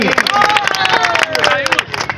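Crowd at a tennis-ball cricket tournament prize ceremony applauds loudly, dense clapping and cheers with whistle-like tones running continuously throughout.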